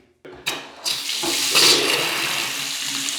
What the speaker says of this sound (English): so now I'll turn the taps on